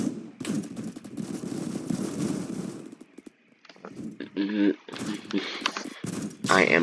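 Gunfire in the Roblox shooter Phantom Forces, rapid bursts of shots with dense busy noise early on and sharper separate reports later, loud and close over a talking player.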